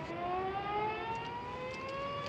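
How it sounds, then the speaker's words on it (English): A long, steady siren wail from atop the San Francisco Ferry Building holds a sustained tone, slowly rising in pitch, loud and continuous over low background rumble. "The siren on top of the ferry building."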